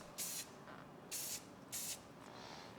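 A spray can lays primer paint onto a rusty car body in three short hissing bursts, each about a quarter second long, close and crisp against a quiet room.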